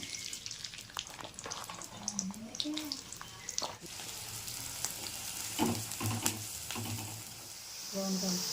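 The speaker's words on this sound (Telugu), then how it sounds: "ఈ ఆయిల్ ఎందుకంటే ఉల్లిపాయని మనం ఫ్రై చేసుకోవాలి" Onions frying in oil in a kadai, a steady close sizzle that runs under stirring clatter while a person talks over it.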